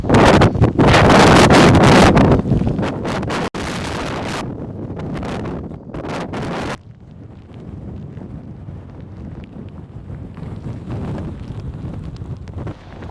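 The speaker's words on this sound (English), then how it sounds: "It's windy and rainy. And, well, really, really windy." Strong wind and rain sweep a foggy mountaintop at Hurricane Ridge in Olympic National Park, Washington, loud gusts roaring and buffeting the microphone for several seconds before dropping to a steadier, lower rushing.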